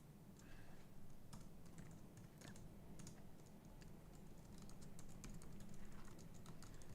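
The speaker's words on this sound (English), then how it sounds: "Let's type that in actually." Quick, fairly faint clicking of keys on a computer keyboard, an irregular run of keystrokes over a steady background hum with no talk.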